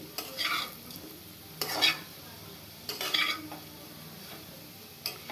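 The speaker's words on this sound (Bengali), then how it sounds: "এই আলুটা প্রায় ভাজা হয়ে এসেছে" Potatoes frying in a pan, stirred in three or four scraping bursts over a low steady sizzle, close and fairly quiet with no voices.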